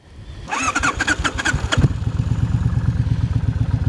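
A motorcycle engine cranks with a brief starter whine, fires and settles into a loud, steady, close idle with a rapid rhythmic chug. No one speaks.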